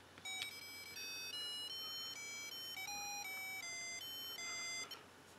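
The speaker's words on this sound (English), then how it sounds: "That's a little cheerful tune." A cheerful electronic start jingle of pure, square-toned beeps stepping through a quick melody, clear and close, from the Radio Shack Space Crusher handheld LCD game.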